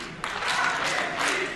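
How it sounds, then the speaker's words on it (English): A wrestling crowd bursts into applause and cheering after a brief quiet start, a dense, loud wash of clapping and shouting that holds steady to the end. "you can hear the crowd"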